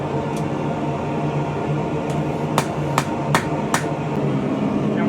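Sharp metal strikes on a forged arrowhead socket being shaped around a piece of bar stock, about six distinct hammer blows landing at irregular intervals over a steady low hum of forge or shop noise.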